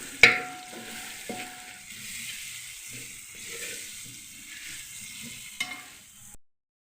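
Green chilies and sliced onions sautéing in hot oil for biryani, a soft steady sizzle broken by spatula scrapes and a sharp metallic clank at the start, close up with no talking.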